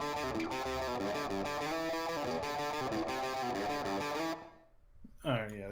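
An electric guitar through a humbucker pickup with heavy distortion plays a riff, a thick, sustained, driving tone loud and close, cutting off near the end before a short voice is heard.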